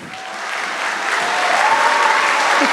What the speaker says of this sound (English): Give them a round of applause before we even begin.